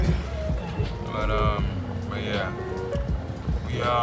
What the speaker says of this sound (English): Yeah, but it's raining.